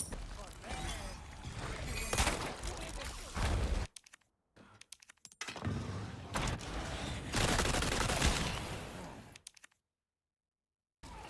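Gunfire in Resident Evil 4 Separate Ways comes in several loud bursts of rapid shots and cracks, broken by brief silent gaps, with someone talking over parts of the action.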